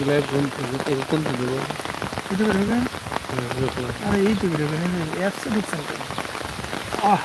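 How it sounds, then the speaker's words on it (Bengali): Steady rain falls by the Chiknai river, a dense broadband hiss of drops on surfaces running through the whole stretch, with voices speaking or chanting over it. "অসাধারণ বৃষ্টি আল্লাহ রহমত"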